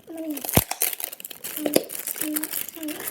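A small toy blind-bag package is torn open and crinkled close by, with one sharp rip early on and softer plastic rustling after it, broken up by short voice sounds.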